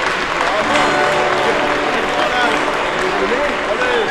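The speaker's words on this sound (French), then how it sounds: "Un grand applaudissement pour Kitsa et Madame Sita, s'il vous plaît" An audience at a live performance applauds steadily, with dense clapping and crowd noise throughout.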